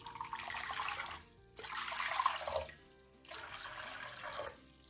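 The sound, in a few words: warm water poured into a mixing bowl for lavash dough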